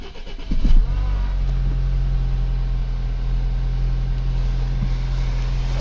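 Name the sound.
Audi A6 C7 engine starting after fuel filter replacement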